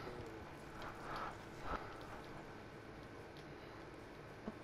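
Horse hooves galloping in Red Dead Redemption 2, a steady clip-clop rhythm of hoofbeats running throughout over a busy outdoor game soundscape, fairly close and moderately loud.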